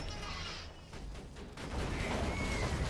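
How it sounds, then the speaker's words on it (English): Dense, rumbling bursts of explosions and gunfire in Borderlands 2 four-player co-op crackle continuously, loud and chaotic, swelling heavier in the second half. "What the hell is all of, all of the explosions right now?"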